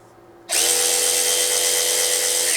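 A DeWalt DCF512B 20V Atomic cordless half-inch drive ratchet whirs up after a brief quiet moment and holds a steady, high, buzzing motor whine up close until the end.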